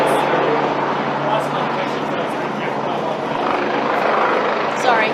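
A helicopter drones loudly overhead during an outdoor NSW government COVID-19 press conference, its continuous rotor roar filling the air while people talk beneath it.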